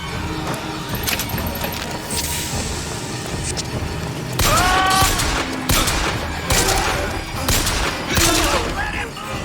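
Gunfire in the shooter game BioShock Infinite, scattered bursts of shots crackling over a dense, continuous mix of game sound effects and background noise.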